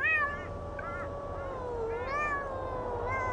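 Several cat meows from the video game Thirty Flights of Loving, high, wavering calls repeating over a steady background hum with no talking.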